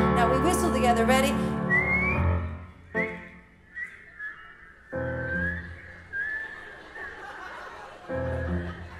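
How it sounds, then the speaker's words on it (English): Several people whistle a tune together, the melody drifting in bright sustained phrases with short gaps, and bursts of chuckling and laughter come in between the whistled lines from a nearby group. "Now we whistle together, ready?"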